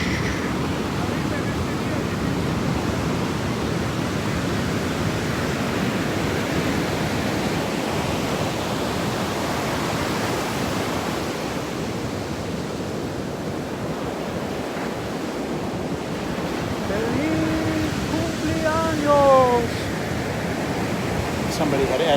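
Sea waves washing onto a small village beach at sunset, a constant broad roar of surf and wind, loud and unbroken, with faint birdlike chirps near the end.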